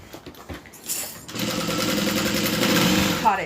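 A sewing machine stitches steadily over a crossbody bag strap, starting abruptly after a second of quiet handling and running as a continuous close, fairly loud mechanical whir to the end.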